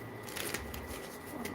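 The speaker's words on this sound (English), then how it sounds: "One more shuffle." Tarot cards are shuffled in a brief, faint riffle of soft papery flicks and slaps, close but quiet, with no talk.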